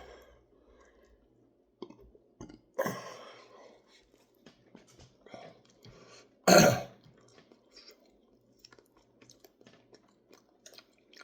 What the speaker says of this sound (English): I got a burp.